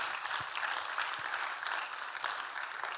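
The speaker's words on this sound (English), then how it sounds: "let's give Kerry a big round of applause." Steady applause from an audience fills a few seconds as a speaker named Kerry is welcomed at a LeadUP leadership session, dense clapping holding a fairly even level throughout with no talk over it.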